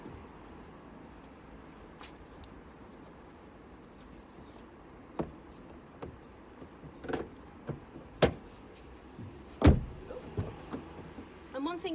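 A car's front seat is adjusted beside a fitted Britax two-way Elite child seat, giving a string of short mechanical clicks, thumps and motor whirs that grow busier toward the end over a quiet cabin background.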